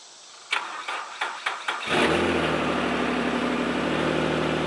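A car engine, just jump-started, cranks in several quick bursts before catching and settling into a steady, loud idle close by.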